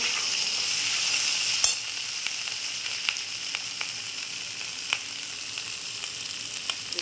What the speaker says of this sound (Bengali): সব এগুলো নিয়ে একটু ভেজে নেবো